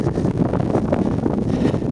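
Low, steady rumbling buffets of wind hitting a microphone, continuous throughout with no voices.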